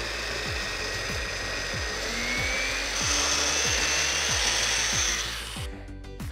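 A chain mortiser cuts a mortise in oak for a timber-frame king post joint. The cutting chain grinds steadily and loudly throughout, with a regular ticking pulse beneath the whine, before cutting off near the end.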